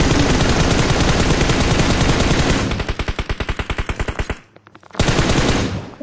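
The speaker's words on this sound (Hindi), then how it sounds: "इसमें ना वो वाली गन है जिसमें ऊपर बड़ा सा गोला आ जाता है," Rapid automatic machine-gun fire in a mobile shooting game, a loud continuous burst that slows into distinct rhythmic shots, breaks off briefly, then resumes in another loud burst.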